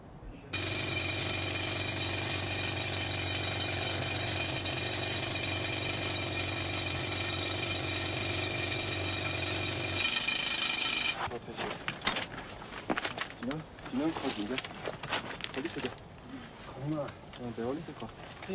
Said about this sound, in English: The drill makes frustratingly slow progress through the hard rock.